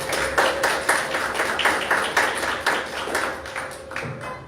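Audience applause at the close of a talk on labour rights, a room of clapping hands sustained steadily, dense and even for several seconds, with no voices over it.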